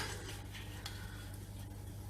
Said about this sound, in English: you can probably still hear the sizzle